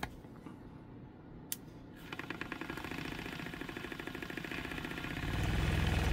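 A vortex paint mixer shakes a large jar of paint with a dense, rattling mechanical buzz, the motor growing louder as it is turned up toward the end, steady and close with no talking.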